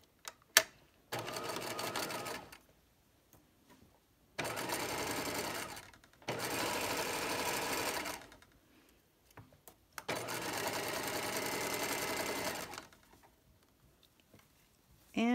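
A sewing machine stitches a seam in a pocket lining in four bursts of about two seconds each, separated by pauses. The machine is close and clear, with a few small clicks between runs.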